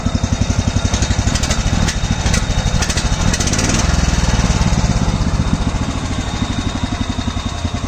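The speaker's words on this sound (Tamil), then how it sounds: "ஸ்டார்டிங் பார்த்தீங்கன்னா ஐடியல் ஆர்பிஎம் ஒரு 1300 ஆர்பிஎம்மில் ரன் ஆகுதுங்க." A Swaraj mini tractor's small diesel engine idles at about 1300 rpm, loudly and close by, its steady rapid chugging pulse continuing throughout without change.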